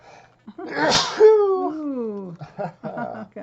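A single sharp sneeze bursts out close by, followed by a brief voiced trailing sound and then quiet speech from a person nearby.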